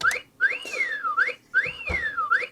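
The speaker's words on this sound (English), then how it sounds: "Then you have your whistle." A Kawasaki kids' toy keyboard plays its whistle sound: two repeated electronic slide-whistle phrases that sweep up, glide down and rise again, loud and close, with nothing else heard.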